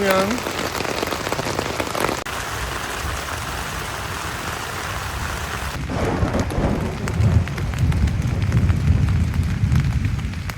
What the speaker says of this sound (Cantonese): 落雨落到咁樣，